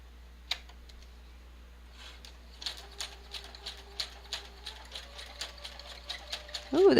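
Sewing machine stitching through paper tags, starting with a single click and then running in a steady series of rhythmic mechanical thumps, close up, with a brief vocal sound at the very end.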